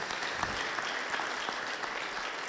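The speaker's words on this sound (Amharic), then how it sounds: "እስቲ አጨብጭቡለት" Audience applause fills a room at an interview event honoring a lieutenant colonel and former commando school commander, a dense, steady clatter of many hands clapping continuously with no break.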